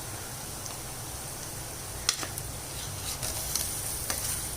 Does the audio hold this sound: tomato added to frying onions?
yes